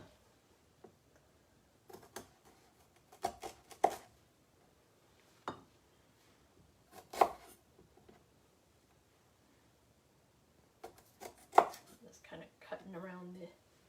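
A knife cuts a chunk off fresh ginger on a board for a Moroccan chicken tagine, giving sparse, faint taps and clicks spaced irregularly through a quiet kitchen.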